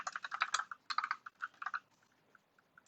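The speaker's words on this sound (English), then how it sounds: "if my keyboard sound is too loud" Rapid clicking keystrokes on a computer keyboard while coding, dense bursts of taps early on thinning to a few isolated clicks toward the end, close and moderately quiet.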